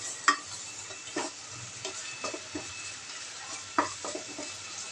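A masala paste with curd for mutton dalcha is stirred in a hot pan, giving a soft steady sizzle broken by several distinct scraping strokes of the spoon against the pan.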